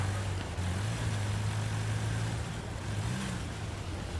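An artillery truck drives in Battlefield 1 multiplayer during a sandstorm, its engine a steady low drone, close and continuous, with a slight pitch rise near the end and no voices.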